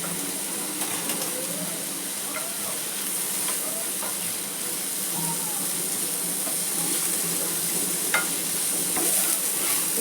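Onion, tomato, garlic and ginger sauté in a pan as a spicy Agri-Koli style misal base cooks, giving a steady broadband sizzle with occasional soft scrapes of stirring, fairly close and continuous throughout.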